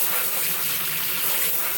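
Cool water pours steadily from a kitchen sink tap over fresh produce being rinsed, a continuous broadband gush heard alone at close range.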